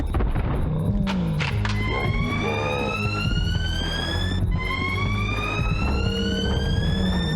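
An alarm siren sounds in the video game Fear Effect 2. Loud electronic tones rise in repeated upward sweeps, layered over a low rumbling game background, with no voices.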